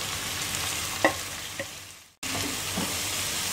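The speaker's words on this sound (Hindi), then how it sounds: "फ्राई कर लेंगे पालक को भी" Finely chopped spinach fries over a slow flame in a wok, giving a steady close sizzle with a couple of stirring scrapes, then a short cut before the hiss resumes.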